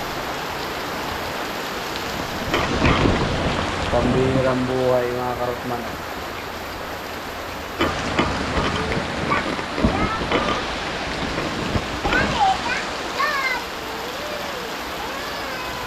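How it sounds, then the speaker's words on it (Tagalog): Heavy rain pours steadily on a house, a dense constant hiss throughout, while someone speaks over it and a cat meows in short bursts nearby. "Lakas ng ulan."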